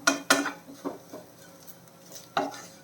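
A spoon scrapes and knocks against a pan while spice powders are stirred and toasted for a shallot prawn roast, a few distinct clanks spaced out over quiet gaps, close and moderately loud.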